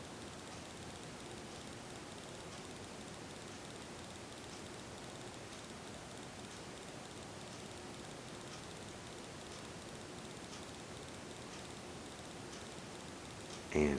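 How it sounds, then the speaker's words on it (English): A 54-inch Hampton Bay Windward III ceiling fan with Gossamer Wind Series blades produces a steady, soft whoosh of moving air, an unbroken broadband hush with no motor hum, constant for the whole stretch. "the large amount of air noise generated by the Gossamer Wind Series blades"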